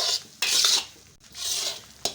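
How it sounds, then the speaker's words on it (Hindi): Chana dal being roasted in a pan and stirred with a spoon: two long, rough scraping sweeps with a dry rasping texture, close and clear, separated by a brief pause. "अब चम्मच को मज़ीद हिलाते रहेंगे। इसकी अच्छी तरह भुनाई करेंगे।"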